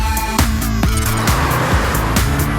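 A Toyota GT86 with its Subaru-developed boxer engine drives hard, loud and close, the engine note climbing and dropping through several quick rises as it revs, with some tyre noise underneath.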